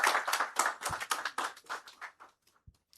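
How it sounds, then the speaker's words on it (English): A small audience at a construction and real estate outlook event gives a round of applause, close, sharp claps that quickly thin out into a few stray last claps. "Can we give her a wonderful round of applause?"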